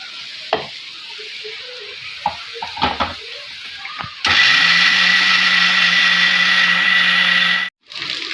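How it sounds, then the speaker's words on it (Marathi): A few clinks and taps, then a mixer grinder roars loudly and steadily for about three seconds, grinding leftover cooked rice with water, before cutting off abruptly. "पाणी टाकून बारीक करून घेणार आहे मिक्सरमध्ये याला बारीक करून घ्यायचा आहे"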